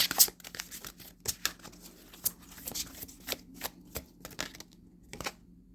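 A deck of oracle cards is shuffled by hand, a brisk series of light papery riffles and flicks close to the microphone, fading to silence at the end with no talking.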